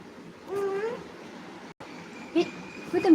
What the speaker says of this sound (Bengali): কালো কালারের ম্যাও এসছে